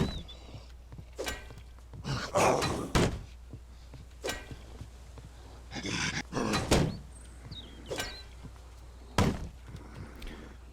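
Crowbar melee strikes in the Mist Survival video game land as a series of heavy thuds and whacks in irregular bursts, some clustered, over a low steady hum.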